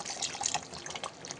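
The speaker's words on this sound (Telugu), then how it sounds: "కొంచెం గ్రేవీకి ఒక గ్లాస్ పెట్టుకొని వాటర్ వేసేసుకుంటున్నాను నేను." Water tipped from a glass into a pot of curry gravy at a Telangana festival cooking session, a soft, faint trickling and splashing pour lasting a moment, no talking.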